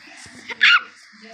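In the Minecraft video game, a dog gives a single short, sharp bark over faint background game sound.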